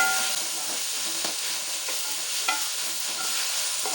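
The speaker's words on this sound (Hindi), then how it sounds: "अब हम इसको ऑयल में पकाएंगे कलेजी को।" Goat liver pieces coated in ginger garlic paste fry in hot oil, a bright steady hiss and crackle with occasional small pops and spoon clicks, close and continuous.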